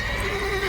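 A mare in The Witcher 3 gives a short, loud, close whinny that lasts under a second and carries a bright, wavering tone.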